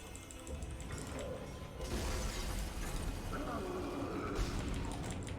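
A weapon reload in Dead Space, a quiet mechanical click and ratchet over a low, rumbling game ambience with no one talking.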